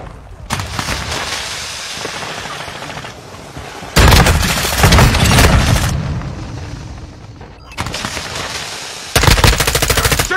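Gunfire in Call of Duty Modern Warfare II: loud bursts of rapid machine-gun fire with booming blasts, coming in several separate intense stretches divided by quieter gaps.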